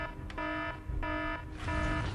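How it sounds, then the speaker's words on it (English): Electronic alarm ringing in a security office, repeated steady tonal bursts of about a third of a second each with short gaps, loud and alone without speech. "What's with the alarm?"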